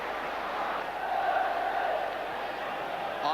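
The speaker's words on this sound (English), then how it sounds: "And the applause for Roach." Crowd noise at a 1970s Nottingham Forest football match, a steady broad roar of applause and voices from a large stadium audience, swelling slightly in the middle and continuing throughout.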